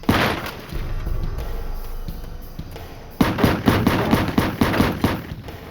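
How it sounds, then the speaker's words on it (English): A Mac-11 machine gun firing at night, a rapid series of sharp bursts in quick regular succession after a rumbling stretch, loud and close. "Muzzle bursts ripped through the night air"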